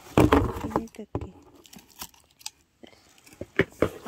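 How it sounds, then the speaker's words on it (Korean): Plastic vinyl packaging being torn open around a bag and box: bursts of crinkling and ripping, loud at first, then sparse rustles and snaps, close to the mic. "비닐 뜯기"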